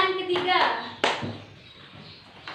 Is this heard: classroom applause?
yes